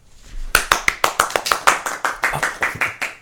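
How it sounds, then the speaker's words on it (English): An audience at a live reading of A Christmas Carol bursts into applause, a brisk run of loud, close hand claps that starts suddenly and continues steadily for a few seconds. "The clerk in the tank involuntarily applauded"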